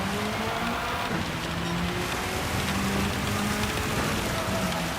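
Heavy rain pours down in a loud, unbroken hiss, with a faint low hum running beneath the steady downpour.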